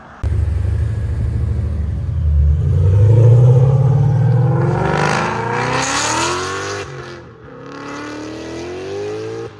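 Supercharged 770hp Ford Mustang GT 5.0L V8 with Valvetronic Designs exhaust valves, a loud deep burbling idle that swells into a rising supercharger whine and roaring rev, then a second climbing rev after a short dip.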